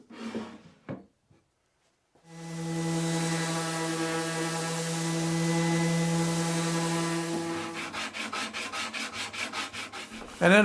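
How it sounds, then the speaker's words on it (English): Sanding a solid wood drawer front for a modern night table: a steady tonal machine hum runs for several seconds, then gives way to a quick series of rhythmic back-and-forth rubbing strokes, close by. "And then of course some more sanding to make everything nice and smooth."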